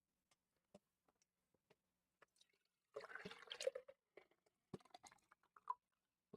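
Water added to an Unreal Engine level sounds as soft scattered drips and patters, then a denser splashy burst of trickling water followed by irregular drips.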